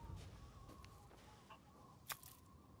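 Chickens in the Resident Evil Village game give a few faint, brief clucks spread across a quiet stretch, with one sharper peak near the end, over low background noise.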